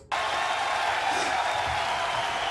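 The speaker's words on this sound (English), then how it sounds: "The crowd goes wild." A concert crowd bursts into steady cheering and applause that starts suddenly and holds at an even level throughout.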